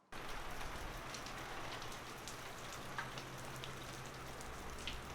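Rain falling in an Arizona desert near Tucson, a dense steady hiss of drops on surfaces with occasional nearer patters, faint and continuous with a low rumble underneath.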